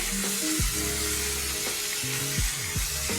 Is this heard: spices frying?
yes